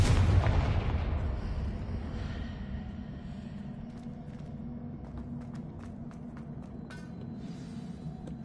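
A Confringo fire spell explodes in the video game Hogwarts Legacy: a loud, deep blast up front that rolls off into a rumbling fiery tail, with a few sharp crackles and pops scattered through the fading roar.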